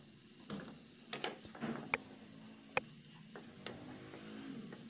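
Chicken karahi being stir-fried in a pan gives a low, steady sizzle, broken by a few scraping stirs and sharp clicks of a utensil against the pan.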